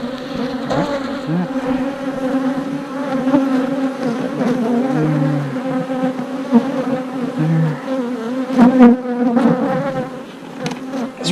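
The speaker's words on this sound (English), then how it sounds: "Wow, those bees." Honey bees buzz around a new hive in a dense, continuous swarm drone heard up close, with individual bees flying past the microphone and briefly rising in pitch.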